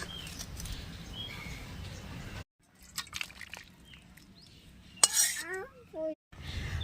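Fish curry with potatoes is spooned from a pot into a dish, with soft liquid pours, drips and scattered metallic clinks of utensil on cookware, broken by brief pauses.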